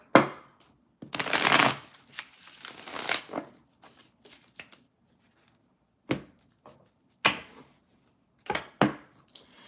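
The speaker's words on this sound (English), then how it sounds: "I will be shuffling the deck 3 times." A tarot deck is shuffled by hand in several bursts: crisp riffling card flutters and soft slaps of cards, close and clear, with short pauses between passes.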